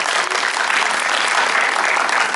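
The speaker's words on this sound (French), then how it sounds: "on peut vous applaudir, vraiment." A cinema audience applauds at a special screening, dense continuous clapping filling the room, loud and even throughout.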